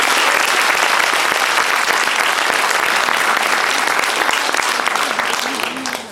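An improv show audience gives sustained, dense applause. It is loud and close and holds steady for the whole stretch, tapering slightly at the end.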